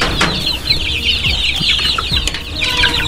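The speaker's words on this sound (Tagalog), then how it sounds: "Ito pala yung mga sisiw na product ng incubator natin." Chicks hatched in an incubator at a small backyard poultry farm chirp continuously in high, overlapping peeps from a nearby group, with a few soft knocks and shuffles underneath.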